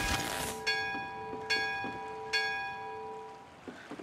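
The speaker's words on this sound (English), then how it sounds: "what would happen if I ring the bell again?" A large bell in Luigi's Mansion 3 rings three times in slow, even strokes, each clear metallic peal hanging and fading before the next, with soft game ambience underneath.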